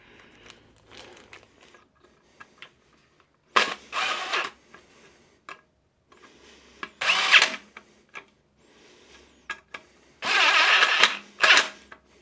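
Power drill driving three screws into a jacket holder on a tactical rifle and pistol gear rack, in three loud separate bursts with quieter handling clicks and rustle between them.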